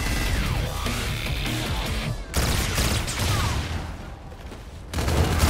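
Call of Duty: Infinite Warfare gunfire, a loud continuous barrage of rapid shots and blasts that briefly drops off and then resumes in full.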